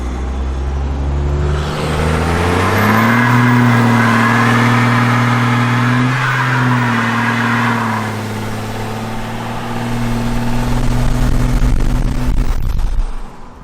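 A 12-valve diesel truck revving hard near the listener, the engine climbing and holding a loud steady drone while its tires spin, then dropping and surging again before cutting off.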